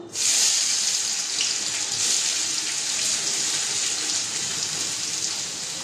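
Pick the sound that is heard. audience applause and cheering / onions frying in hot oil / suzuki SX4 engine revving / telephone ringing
onions frying in hot oil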